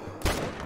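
A single loud gunshot fired while hunting turkeys, a sharp blast followed by a decaying rumble, with no talk.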